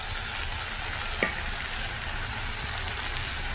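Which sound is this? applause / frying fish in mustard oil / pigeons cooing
frying fish in mustard oil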